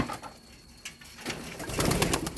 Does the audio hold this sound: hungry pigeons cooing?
yes